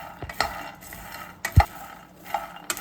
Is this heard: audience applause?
no